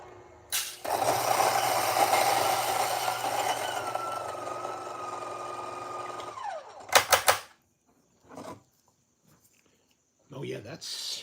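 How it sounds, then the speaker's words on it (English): A coffee grinder set to its coarsest setting runs loudly for several seconds, a dense whirring grind that ends in a few sharp clatters, followed by short bursts of handling noise. "If we do grinding at this position,"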